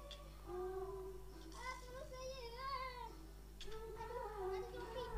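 Minecraft cat meowing in a game, several drawn-out tonal meows in a row, fairly close and clear, with a low steady hum underneath.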